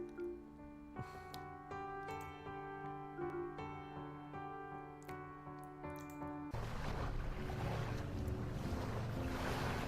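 Fishing boat drawing toward shore in the Seabed video game, a low steady engine hum under sustained tones, then a broad wash of waves and wind swells up in the last few seconds.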